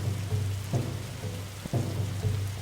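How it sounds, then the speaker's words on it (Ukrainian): Rain falls in the forest survival game 99 Nights in the Forest as a steady, soft hiss with scattered light patters and a low hum underneath. No voices are heard. "і дощ пішов"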